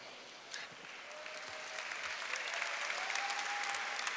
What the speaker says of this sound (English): Here's some of my generation clapping.